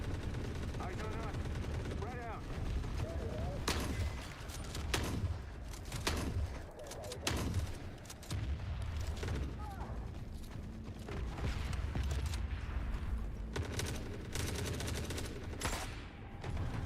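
Dense gunfire and blasts from grenade launcher fire in the shooter game Forever Winter, with repeated loud impacts and bursts over a constant battle din and a voice speaking over it.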